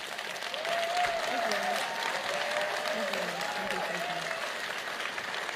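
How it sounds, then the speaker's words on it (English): An audience at a congressional candidates' debate in Lamar County, Texas, gives a steady round of applause, with voices speaking and murmuring over the clapping. "Ladies and gentlemen, give them a round of applause again,"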